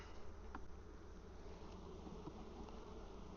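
Honeybees buzz steadily around a healthy, heavy hive with a laying queen during mite washing, a dense, continuous hum, close and fairly quiet, with no voices.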